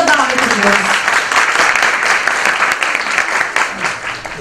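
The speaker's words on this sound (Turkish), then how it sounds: "büyük alkışlarınıza davet ediyoruz." Audience applause fills a hall at a Children's Rights Day program, a loud, steady burst of many hands clapping together as a speaker is invited up, with some voices mixed in.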